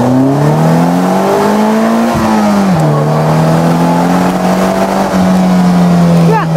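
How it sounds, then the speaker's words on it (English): A Polaris Slingshot at full throttle in first gear gives a loud, close engine roar rising in pitch, briefly dipping around a shift, then droning on steadily, with someone talking over it. "Let's see what happens when I floor it in first gear."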